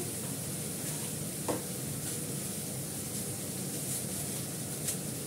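Cumin and Kashmiri chili frying in a pan, a steady broad sizzle that holds even throughout with faint occasional clinks, close and moderate.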